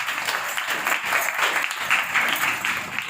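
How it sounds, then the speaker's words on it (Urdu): A church congregation claps loudly for Tariq during a sermon, a dense, continuous round of applause that holds steady for several seconds with no voices rising above it. "خاص کر بیٹے طارق کے لیے ایک زوردار تالیاں ہونا چاہیے"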